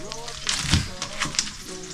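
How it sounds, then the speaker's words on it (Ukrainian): White sausages for the grill sizzle as they fry in a pan, a close, crackling hiss with a few sharper pops, while someone talks over it. "Будемо їх смажити, вони дуже смачні."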